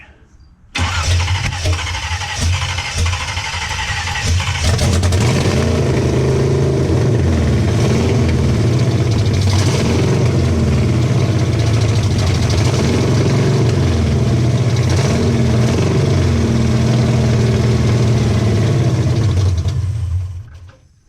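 A long-dormant car engine catches and keeps running for about twenty seconds, a loud steady idle with uneven fluctuations, then cuts off; no one speaks.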